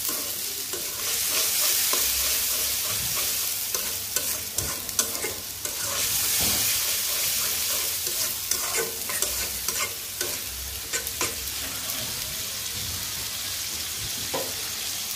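Onion, ginger-garlic paste, cumin, tomato and green chilli fry in a pan with a steady close sizzle, punctuated by repeated scraping stirs of a spatula throughout.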